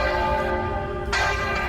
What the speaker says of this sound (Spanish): Algunos han oído el repicar de las campanas a medianoche.